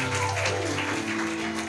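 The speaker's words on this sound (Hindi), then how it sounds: "जोर से ताली बजा सकते हैं हम" A church congregation claps loudly together at a Sunday Hindi service, a dense, continuous wash of applause filling the short moment without pause.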